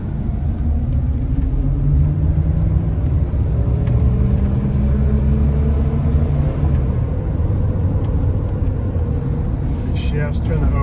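A Hummer H2 engine rumbles from inside the cabin with low, loud drivetrain drone as it drives and shifts through gears, the pitch rising and settling without sharp breaks.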